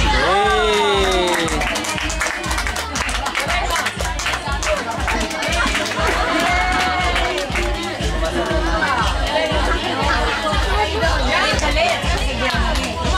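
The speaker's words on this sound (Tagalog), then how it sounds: "Oh, palakpak naman." Guests clap and cheer after a magic trick at a children's birthday party with clowns, a dense burst of applause and crowd chatter filling the room, with children's voices and talking over it throughout.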